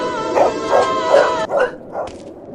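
Several dogs barking on a village path, a close, loud run of five or six sharp barks and yips in an uneven rhythm, with whimpering tones between.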